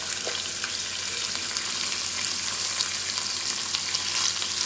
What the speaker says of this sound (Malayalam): സവാള ഒന്ന് വഴന്ന് വന്നോട്ടെ